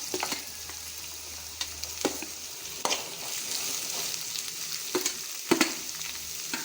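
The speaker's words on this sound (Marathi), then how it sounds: "आतां हातूंत हांव बारीक चिरून घेतिल्लो कांदो घालतां." Finely chopped onion sizzles in hot oil with curry leaves in a pan for upma, a steady frying hiss broken by several sharp stirring scrapes and clacks of a spatula, close and with no talk.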